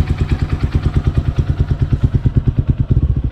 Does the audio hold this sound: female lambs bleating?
no